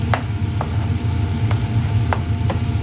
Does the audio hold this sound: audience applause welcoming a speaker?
no